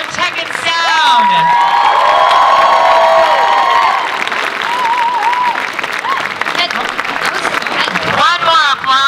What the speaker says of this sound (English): One more applause for Tech and Sound.